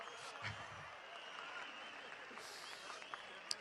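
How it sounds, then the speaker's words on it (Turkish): Faint, steady applause from a distant crowd at a political rally in Güngören, Istanbul, clapping continuously throughout. "Alkışlar, alkışlar, alkışlar."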